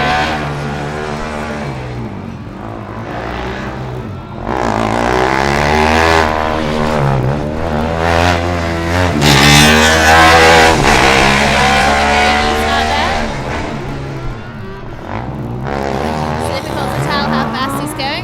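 A Formula Student race car from Monash, number 66, drives an autocross slalom at FSG 2012, its engine rising and falling loudly with each gear change under steady commentary.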